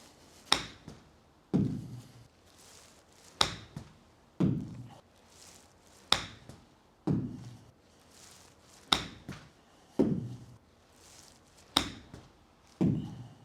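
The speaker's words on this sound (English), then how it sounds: "we hit some shots with the 60-degree wedge, trying to get that kind of 20-yard carry" Short wedge shots with a 60-degree wedge strike a Srixon Soft Feel 2023 golf ball on the range, producing a series of crisp, evenly spaced impacts, each followed by a brief duller thud.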